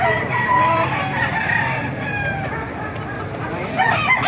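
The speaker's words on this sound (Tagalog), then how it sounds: "napakaraming manok na dito eh" Many chickens cluck and squawk at once in a busy, noisy chorus at a market in Baliuag, with a rooster call rising near the end.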